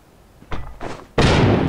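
A grenade-like bomb thrown in the mobile shooter Rules of Survival: two muffled thuds followed by a sharp, loud blast that rumbles on.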